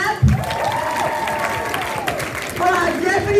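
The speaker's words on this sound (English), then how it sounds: "A thunderous applause for our superintendent of schools." A school assembly audience applauds the superintendent, loud sustained clapping with a tonal voice or music line running over the top.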